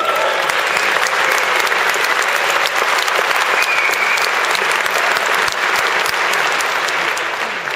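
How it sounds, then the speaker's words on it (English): An audience in a Prague congress center hall applauding a speaker on stage, dense sustained clapping that stays loud and even throughout, tapering slightly at the end. "Yeah, you better clap for that."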